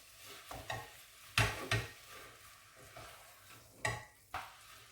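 Bolognese mince browning in a pan, with intermittent scraping and stirring strokes of a utensil against the pan over a faint, quiet sizzle, several sharper knocks spaced irregularly.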